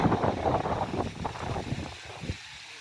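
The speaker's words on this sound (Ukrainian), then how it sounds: "Вітер." Gusty wind buffets close to the microphone outdoors during a sunflower harvest, a rough low rumble that eases off toward the end.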